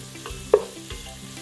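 Mushrooms sizzling with aromatics in a pan for a vegan lugaw, a soft steady frying hiss with one brief clack of a utensil stirring, close and without talking.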